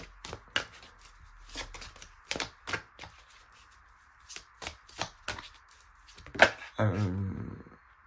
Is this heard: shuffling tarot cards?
yes